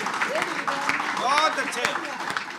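An audience at a Hindi comic poetry gathering claps in a steady, dense wash of applause, with voices talking and calling out over it.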